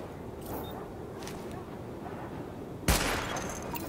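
A weapon test in The Division game ends with one loud, close gunshot crack and a short ringing tail, following a few seconds of quiet ambient background.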